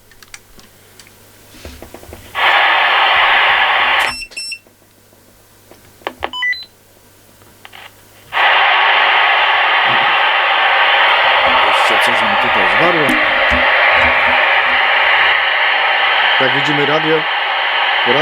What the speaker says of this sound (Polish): Radio szumi.